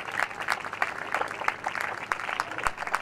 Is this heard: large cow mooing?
no